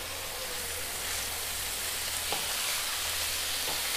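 Cabbage thoran cooks in a pan with salt and turmeric while being stirred, a steady close sizzle running throughout with faint scraping touches of the spoon.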